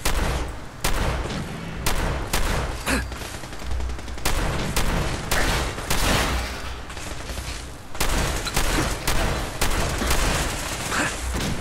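Dense automatic gunfire and volleys from the video game Fallout 4, with bursts of rapid shots crackling almost continuously and loud throughout, a few brief pauses between clusters of firing.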